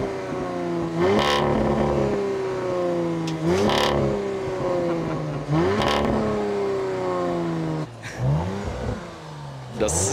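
An Audi RS4 B5 or B9 engine is revved repeatedly, four sharp rising bursts that fall back to a steady idle between them, loud and close, with no talk.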